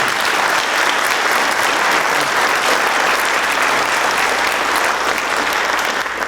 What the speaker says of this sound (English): he deserves a great applause for what he's done for Frankfort